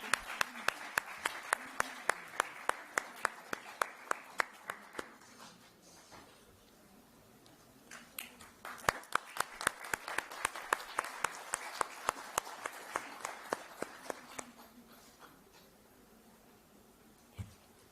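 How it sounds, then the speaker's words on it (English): Sparse, distinct claps from a small audience at a women's conference, sharp individual hand strikes in two bursts separated by a quieter gap, fairly faint and close with light background murmur. "A big round of applause for that."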